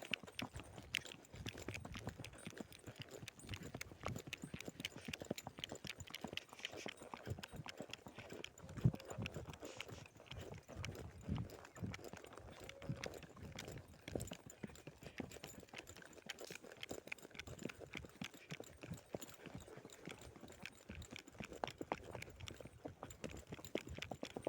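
A mare's hooves clip-clop steadily as she walks a circuit around a farm field, a continuous close rhythm of hoof strikes with no voices.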